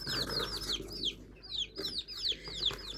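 Desi hens and growing chicks clucking and cheeping close by, a busy run of short rising and falling calls repeating over a low background hum; no talking.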